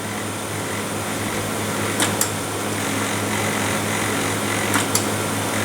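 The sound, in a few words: LaserJet printer running, trying to feed a page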